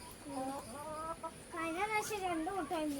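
A hen clucks in drawn-out, wavering calls, fairly close and clear, with a quieter stretch between bursts.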